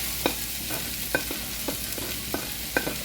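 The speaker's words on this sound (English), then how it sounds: "Now that our green pepper is almost all the way done, add your onions." Onions and green pepper frying in a pan, a steady sizzle broken by a few sharp scrapes and taps as the pan is stirred, close and fairly quiet, with no talking.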